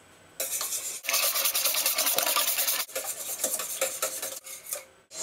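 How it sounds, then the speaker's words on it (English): Two eggs being beaten in a bowl, a steady rasping, scraping whisk sound that runs almost continuously in close, loud bursts with a couple of brief pauses. "I'm just going to beat the eggs."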